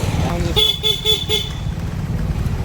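Several short car horn toots sound close by in a quick run amid steady street traffic rumble near an old bus stand in Dhone.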